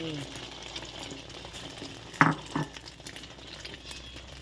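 Three large beaten eggs for a crispy omelette sizzle and crackle in hot oil in a pan, a steady frying hiss with a couple of sharp clinks of a utensil against the pan.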